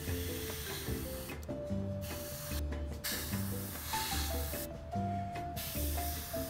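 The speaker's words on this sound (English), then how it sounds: "you absolutely want to spray at a low PSI" An airbrush sprays paint at low pressure onto a Flames of War Jagdpanther model tank, giving a steady hiss in short bursts over soft tonal background music.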